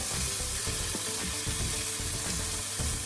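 Garlic browning in a hot pan for a chicken and chorizo sauté, a close, steady crackling sizzle with small bursts of pops, no voices.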